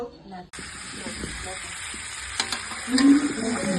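Potatoes for a chicken dish start frying abruptly in hot oil with a steady hiss and sizzle, broken by a few light stirring clicks. Faint talk is heard nearby.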